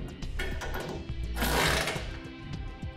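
Bolts being tightened on a Curt trailer hitch installed under a 2011 Ram 3500: a dense, steady mechanical whirring with a brief louder burst in the middle, close and continuous, with no talk over it.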